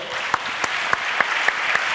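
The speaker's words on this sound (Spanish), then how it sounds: "Por favor, un aplauso, que se note que es directo" A small live audience at a podcast recording claps, a few sharp claps standing out at a quick regular pace over a softer wash of hands.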